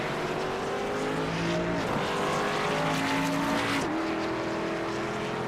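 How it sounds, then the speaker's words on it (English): Race cars roar around an oval track at Richmond, a loud sustained engine drone with pitch sweeps as cars pass and shift, continuous and close with no talk. "They go down the back stretch, about 3/10 of a lead right now for Kyle Spees."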